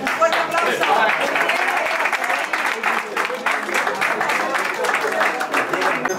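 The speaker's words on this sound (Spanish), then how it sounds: "un fuerte aplauso." An audience gives a hearty, continuous round of applause at a golf club tournament prize ceremony in Estepona, the clapping dense and sustained with a few voices mixed in.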